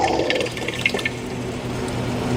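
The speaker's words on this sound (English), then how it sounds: "I'm just gonna bring the heat back up a little bit here as I put this cooler tomato sauce in." Cool crushed tomatoes pour into a hot pan for a sausage and pasta tomato sauce, giving a steady wet, gurgling splash with a soft sizzle underneath, close and continuous.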